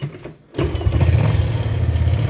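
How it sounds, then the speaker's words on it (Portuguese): A motorcycle engine cranks and catches after a brief quiet gap, then settles into a loud, steady, rough idle close by; the bike has trouble starting and tends to misfire and stall. "nós vamos testar ela ligando aqui a moto"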